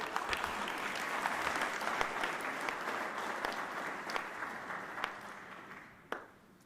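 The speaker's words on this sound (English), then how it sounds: "Give Pastor Mason a huge round of applause as he comes forward." Sustained applause from an audience at a live Philadelphia mayoral press event as Pastor Mason comes forward, a dense steady wash of many hands that thins and fades out near the end.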